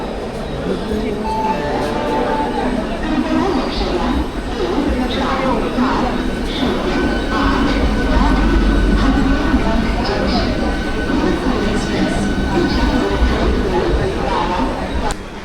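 A Mumbai local commuter train rumbles along at steady speed toward Dadar with a continuous low roar and rattling, voices murmuring faintly inside the carriage.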